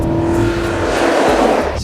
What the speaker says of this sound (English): I really admire Audi for putting in such a high-revving V8 into this RS5.